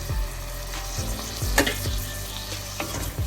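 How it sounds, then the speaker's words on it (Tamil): Capsicum sautéing in a pan for capsicum rice, giving a steady low frying sizzle with scattered stirring scrapes and clicks, close and fairly loud, with no talk. "இந்த குடமிளகாய் வதங்கி கொண்டு வந்துட்டுது"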